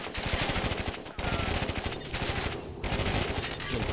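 Sustained rapid machine-gun fire in the Warzone 2100 strategy game pounds an enemy oil derrick, loud and dense, with brief pauses between long bursts.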